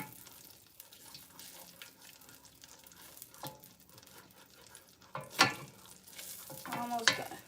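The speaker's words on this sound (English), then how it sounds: "You're going to see me deglaze the pan with white wine." A hot stovetop pan sizzles as white wine is poured in to deglaze it while lobsters and cauliflower cook, with steady frying hiss, stirring, and two louder bursts near the end.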